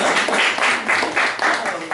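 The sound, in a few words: audience clapping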